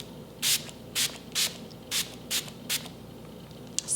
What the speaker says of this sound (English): I'm gonna use the Wet n Wild Cucumber Setting Spray